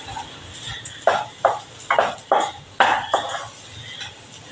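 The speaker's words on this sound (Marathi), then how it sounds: "हे जरा थोडं परतून घेणार आहे आपल्याला भाजायचं नाही आहे पुरं ते जरा तुपावर असं परतून घ्यायचं" Spoon scraping and stirring in a pan of ghee for a sweet filling, about seven distinct clinking strokes in an uneven rhythm, close and moderately loud with a faint background hiss and no talk.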